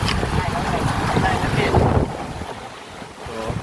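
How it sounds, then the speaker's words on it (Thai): Strong wind at sea buffets the microphone near a boat by a rocky shore, with loud rushing gusts and water noise under muffled voices. "ลมแรงเกินอ่ะ"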